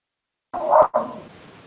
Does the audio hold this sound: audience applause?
no